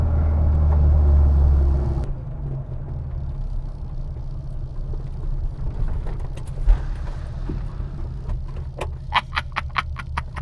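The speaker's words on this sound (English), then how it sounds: "My Patty Hopkirk handbrake turn, right?" A classic Mini Cooper fitted with a John Cooper Works kit idles with a deep engine rumble, then drops to quieter mechanical noise with rattles and clicks, and a series of sharp clacks comes near the end.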